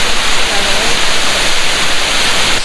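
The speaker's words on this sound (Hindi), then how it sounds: "आवाज़ आ रही है आपको वाटरफॉल की, दिखाते हैं आपको" An artificial waterfall at Khor Fakkan in Sharjah, UAE, with water piped up and released from above, gives a steady, loud broadband rush of falling water that runs unbroken from start to finish.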